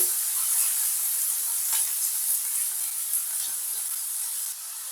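Onion sizzling in a hot pan while cooking Jamaican ackee and saltfish, a steady bright frying hiss with small crackles, close and continuous.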